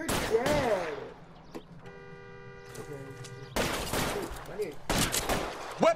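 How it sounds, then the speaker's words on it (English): Gunfight in a video game, with bursts of rapid gunfire breaking out loudly between stretches of quieter in-game sound, and a voice briefly audible. "this is the first gunfight I've done"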